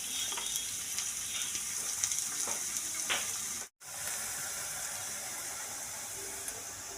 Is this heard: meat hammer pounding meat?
no